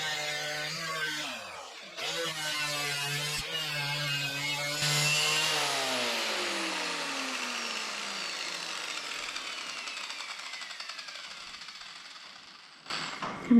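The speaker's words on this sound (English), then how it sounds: "So we decide to focus on sanding off the rust using the steel wire brush head." A power tool fitted with a steel wire brush head scours rust off a John Deere Gator utility vehicle, its motor whining up and then slowly winding down in pitch, with a harsh scratchy rasp close by and a brief clatter at the end.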